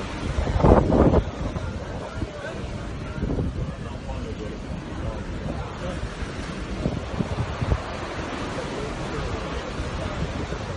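Wind and sea surf rush around a boat sailing on open water, a steady broadband wash with a louder gust or splash near the start, no speech over it.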